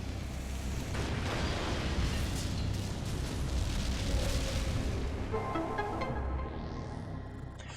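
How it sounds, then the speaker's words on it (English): A sustained rumbling explosion from the video game Metroid Prime 3: Corruption, loud and dense with low booming energy throughout, easing slightly as a fainter crackling tail sets in near the end, with no talk over it. "There we go. Explosion!"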